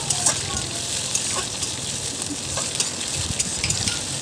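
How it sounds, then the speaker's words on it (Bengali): Chopped tomato frying with browned onions in a pan, giving a steady close sizzle with scattered crackles and soft stirring scrapes, and a voice faintly in the background. "এবার দিয়ে দেবো টমেটো কুচি দিয়ে একটু ভালো করে ভেজে নেব"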